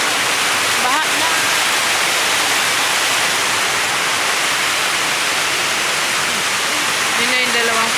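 Steady heavy rain pours outside with a dense, unbroken hiss and roar, while voices briefly cut in near the beginning and end.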